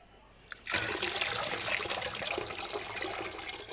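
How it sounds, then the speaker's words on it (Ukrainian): Hot brine with spices is poured off from jars of canned tomatoes, a steady close splashing gush that starts abruptly after a brief clink and keeps running loudly to the end. "Дивіться, я ось так беру і ось зливаю."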